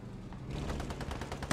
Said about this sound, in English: I would guess the AT rifle is trying to kill the crew of the Matilda.